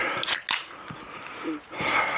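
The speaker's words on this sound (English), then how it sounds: "Let me pop a cold one here." A cold can of root beer is cracked open outdoors, giving a couple of sharp, bright pops and a fizzy hiss near the start, followed by quieter rustling and a brief later burst of fizz.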